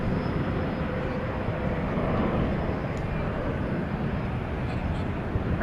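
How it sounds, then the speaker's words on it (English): An American Airlines Boeing 737-800 bound for Minneapolis–St. Paul rolls for takeoff at Dallas/Fort Worth at night, a steady low rumbling jet roar at a distance under faint background noise, without speech. "American 3149 to Minneapolis St. Paul is off and running. It's a 737-800."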